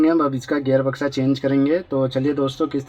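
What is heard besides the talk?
No everyday noise stands out behind the speech.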